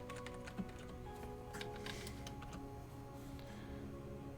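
Soft, quick clicking of keys on a computer keyboard, a steady patter of taps at low level with no voices over it.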